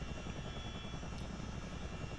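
A CH-47D Chinook helicopter in a flight simulator gives a steady, dense rotor and engine drone that holds constant throughout, with no voices.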